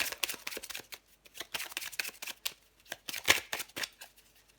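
Playing cards shuffled and drawn during a tarot-style reading, giving a close, dry run of quick riffling and snapping bursts separated by brief pauses, with no voices.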